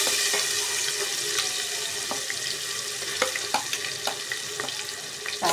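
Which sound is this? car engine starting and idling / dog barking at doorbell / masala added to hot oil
masala added to hot oil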